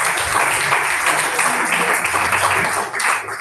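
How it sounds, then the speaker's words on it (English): A dense, loud wash of audience applause fills a Toastmasters club meeting room, many hands clapping steadily and close by for a few seconds with no break. "Please give her one more round of applause."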